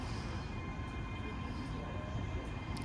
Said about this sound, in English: now about to depart is 35007, heading off to Lanark